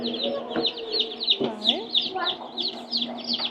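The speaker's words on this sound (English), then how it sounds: "Now we got chickens." Chickens cluck in a busy, overlapping stream of short calls and chirps, close by, with a steady low hum underneath.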